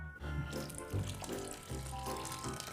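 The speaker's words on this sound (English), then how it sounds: "you need to pour hot water over it" Hot water poured over torn paper pulp for homemade recycled paper, a steady splashing, trickling pour close by that runs continuously with small surges, no voices.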